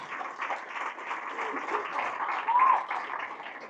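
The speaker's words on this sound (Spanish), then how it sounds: "Fuerte ese aplauso a la palabra de Dios" Church congregation applauding the word of God during a Catholic sermon: moderate, somewhat distant clapping that swells and dips, with speech faintly underneath.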